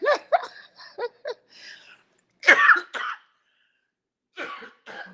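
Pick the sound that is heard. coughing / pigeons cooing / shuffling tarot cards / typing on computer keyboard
coughing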